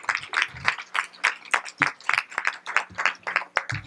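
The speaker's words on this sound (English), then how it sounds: "let's give them a round of applause" Audience at an annual meeting presentation clapping in a lively round of applause, dense overlapping hand claps filling the whole stretch at moderate loudness with no voices on top.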